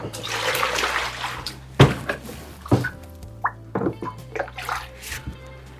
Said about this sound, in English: Now it's time to rinse and wash.